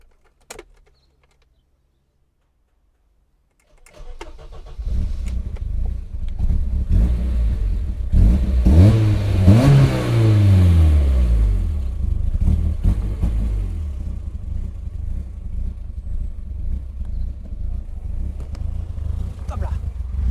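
A BMW M3 E30 engine cranks and fires after a brief near-silence, then revs up and down loudly before settling into a steady, throbbing run, with a few faint bird sounds at the edges.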